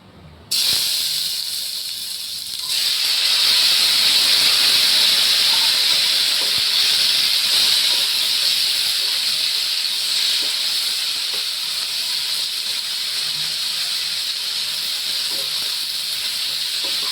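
Pointed gourd, bitter gourd and potato drop into hot oil in a heated kadai, bursting into a loud, close, steady sizzle that holds for many seconds and eases only slightly.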